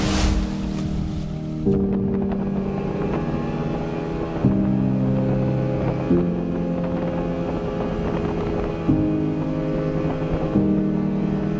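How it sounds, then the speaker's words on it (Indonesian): A passenger motorboat crossing the sea between Sorong and Dom through rough waves in rain and wind, its engine droning steadily and loudly, the pitch stepping up and down every few seconds with no voices. "ikuti perjalanan saya kembali ke Sorong dengan alunan ombak yang kadang-kadang bikin ngeri-ngeri sedap"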